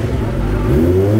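A Kawasaki ZX25R motorcycle engine revs hard, its pitch climbing quickly in one short, loud, close burst.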